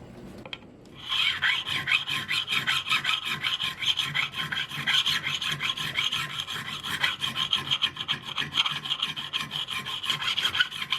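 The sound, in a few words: crowning stainless steel guitar frets with Fret Guru file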